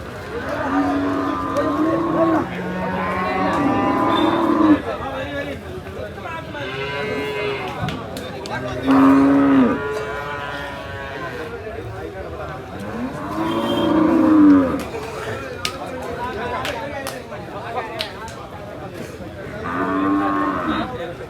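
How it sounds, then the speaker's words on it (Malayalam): Jersey bull calves at the Payyanad Cholakkal cattle market moo again and again, loud and close. Several drawn-out calls rise and fall across the stretch with short gaps and steady market murmur between them. "നല്ല നല്ല ക്വാളിറ്റിയുള്ള ജെയ്സി കാള കുട്ടികളൊക്കെയാണ് നമ്മളെ ചന്തയിൽ ഇന്ന് അധികം എത്തിയിട്ടുള്ളത്"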